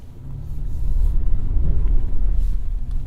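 A 2021 Chevy Colorado ZR2 with Goodyear Wrangler tires spins its wheels in two-wheel drive with traction control off, giving a steady, loud low engine rumble that swells slightly and holds.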